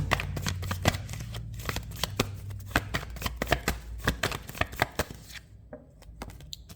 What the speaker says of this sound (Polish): Dobiorę karty.